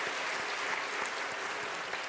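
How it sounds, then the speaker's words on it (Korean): A church congregation at a Sunday afternoon service applauds a harp ensemble, a dense, steady wash of clapping filling the hall with no pauses. "우리 카리스 하프단에게 격려의 박수 한번 보내주시죠"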